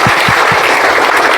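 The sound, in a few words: classroom children applauding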